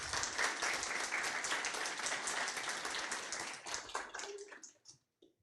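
Audience applause after a talk at a technology conference, dense steady clapping that thins out and fades near the end, with no talk over it.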